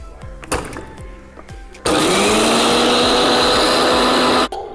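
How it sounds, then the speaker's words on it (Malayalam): An electric blender roars at close range, whipping homemade mayonnaise ingredients in a steady, loud whir for nearly three seconds, after a few light taps and clinks while the jar is set in place. "ഇതെല്ലാം കൂടെ ഞാൻ ചേർത്ത് അടിക്കാൻ പോവുകയാണ്"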